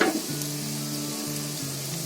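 Raw banana kofta balls fry in hot oil with a steady, close sizzle and a soft bubbling hum throughout.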